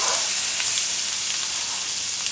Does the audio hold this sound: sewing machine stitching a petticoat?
no